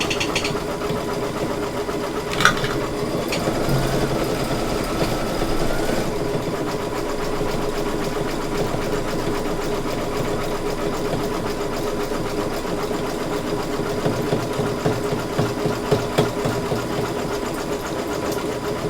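An embroidery machine stitching a design: a steady, fast mechanical whir with a rapid needle rhythm, continuous and close, running alone throughout.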